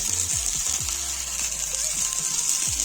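A wrap being cooked in ghee in a pan, with a soft, steady sizzle close by and a few faint scrapes and thumps as it is turned over, low in level throughout.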